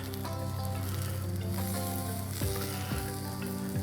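Bread for a bruschetta grilled cheese toasting in a pan, giving a steady close sizzle under a constant hum, with a few faint clicks and no voices.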